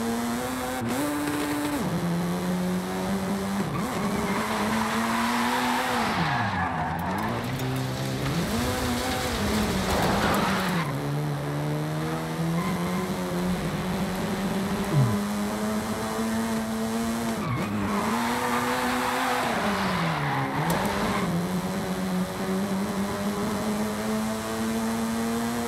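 Han's Mazda RX-7 from Tokyo Drift, built in the Forza Horizon 5 racing game, holds a long continuous engine whine through a drift zone. The pitch rises and dips as the throttle is worked, with brief tire squeal.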